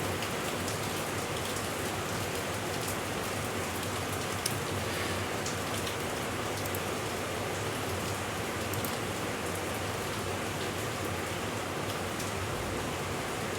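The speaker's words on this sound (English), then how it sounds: "it's been raining non-stop today." Steady, dense rain falls without pause in Singapore, a constant hiss of drops on surfaces with no voices or other sounds.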